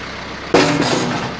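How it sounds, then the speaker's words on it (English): A tractor engine starts up abruptly, loud and close, then keeps running with a rough steady rumble. "we'll just use the tractor."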